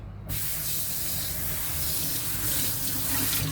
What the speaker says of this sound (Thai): โอเคล้างน้ำก่อน